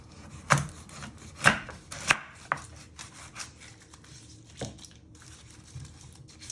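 Pulled pork being chopped on a board with a knife, several loud close blade strikes in an uneven rhythm, followed by softer scraping and lighter cuts.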